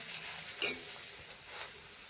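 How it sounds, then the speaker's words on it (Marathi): Traditional sweet potato gharya fry in a little hot oil with a soft, steady sizzle. A single brief clink of a utensil rings out near the start. "आता मस्त आपल्याला तळून घ्यायचं आहे"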